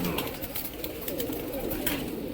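Soft coos from Punjabi pigeons murmur steadily against a constant background hiss, low and rounded, with no clear pauses across the short stretch.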